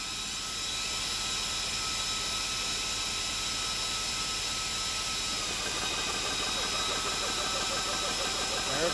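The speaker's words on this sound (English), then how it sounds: "So, I am going to hit the switch to start the compressor," An A3 PCP air compressor runs continuously after being switched on, its motor and pump giving a loud, steady, rapidly pulsing drone that stays close and unbroken.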